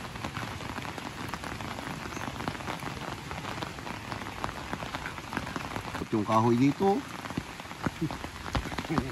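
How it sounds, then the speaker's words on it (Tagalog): Steady rain pattering on surfaces all around, with someone speaking briefly partway through. "Grabe ulan na naman."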